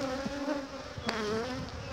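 A honey bee swarm buzzes inside an open hive during a pre-season inspection, a steady, dense hum close by with a brief sharper rise midway.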